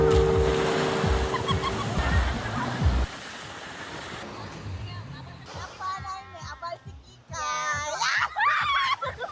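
Ocean surf washes along Tabon Beach as a steady broadband rush, with wind buffeting the microphone; people talk and laugh over it, and children's voices rise clearly in the second half.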